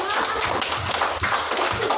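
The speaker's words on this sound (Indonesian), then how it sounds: "Tepuk tangan untuk kita semua." Children clap together in a classroom, a dense burst of hand claps with a few rhythmic pulses over roughly two seconds, close and fairly loud, with voices mixed in.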